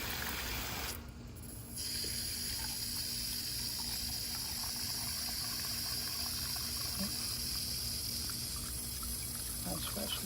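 Fresh water pours steadily into garden planting containers, a continuous close splashing rush that runs nearly unbroken apart from a brief dip near the start, while people talk faintly underneath.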